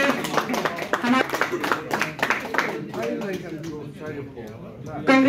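Clapping breaks out among attendees at the annual general meeting of a Kashmir travel agents federation, with brisk claps in the first half under a speaker's voice, then fading as talk continues.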